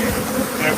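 Dense buzzing of many bees, a continuous close, loud hum with no talk over it.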